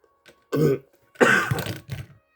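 A short burst of harsh throat-clearing coughs, close and loud, coming in three quick bouts separated by brief silences.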